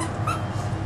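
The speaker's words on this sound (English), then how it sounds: "That's the dog." A brief, soft high whine from a dog at a dog party, a thin whimper rising over low steady background room noise.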